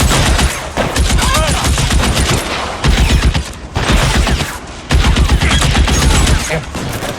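Dense, loud gunfire fills a 1947 shootout in the video game L.A. Noire, with rapid overlapping bursts of shots that pause briefly twice before resuming.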